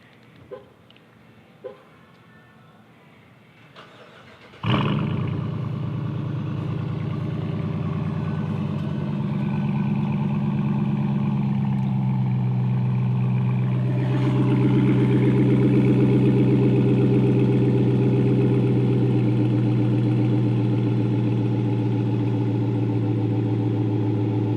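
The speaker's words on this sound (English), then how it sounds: "Now would actually be a good time to demonstrate the remote start since we're back here." A few faint clicks precede a 2017 Dodge Challenger R/T Super Track Pak engine firing up by remote start with a sudden loud burst, settling into a steady, deep idle that rises slightly partway through.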